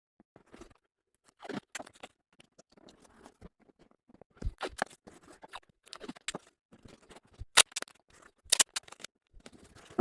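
Tape being pulled and pressed onto an inflatable PVC boat while attaching accessories: sporadic crackly rips and sticky peeling sounds come in short irregular bursts, growing sharper and louder toward the end.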